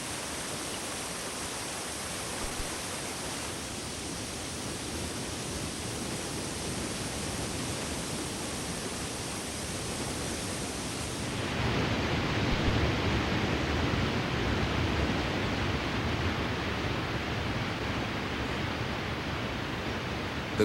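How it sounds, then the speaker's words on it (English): Yosemite Falls in Yosemite Valley plunging 2,425 feet, a constant broadband roar of falling water that grows louder and fuller partway through, with no voices. "The grandest of the valley's leaping cascades is Yosemite Falls."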